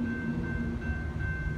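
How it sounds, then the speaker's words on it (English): An outbound Metra express commuter train running through the Riverside, Illinois station without stopping. It makes a loud, steady rumble with a sustained tonal hum throughout, heard alone. "The next Metra train approaching your station will be a Metra Express train and will not stop."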